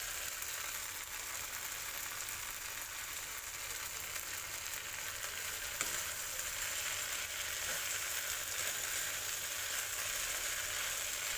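Okra (bhindi) frying in a pan with grated coconut and coriander leaves, a steady soft sizzle throughout with occasional faint stirring clinks, no voices.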